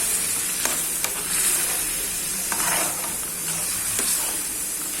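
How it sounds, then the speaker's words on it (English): Soy sauce and vinegar poured into chicken noodles frying in a pan, giving a steady loud sizzle with a few soft stirring scrapes, heard alone. "now I'm going to add some soya sauce and vinegar for different taste"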